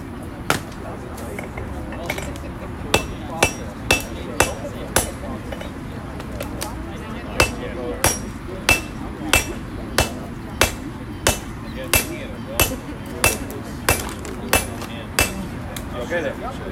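A hammer strikes hot metal during a live knife-forging demonstration, ringing out in sharp, regular blows about one per second with occasional quicker double taps, over a faint room murmur.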